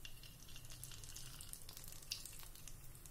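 Hot cooking oil sizzles quietly in a pan, ready for frying besan gatte: a faint, steady hiss with scattered small crackles throughout.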